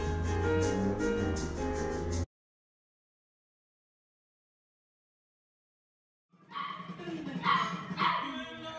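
Beagles bark in quick bursts, loud and close. The barking cuts off into silence and then resumes with yips and whimpering sounds.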